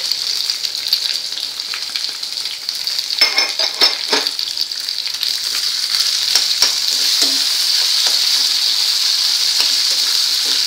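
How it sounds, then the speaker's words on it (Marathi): Potatoes for a fasting bhaji fry and get stirred in a pan, making a loud, continuous close sizzle with repeated scraping stirs and no talk. "साखर अशी हलवून झाल्यावर त्यात आपण बटाटे घालणार आहोत।"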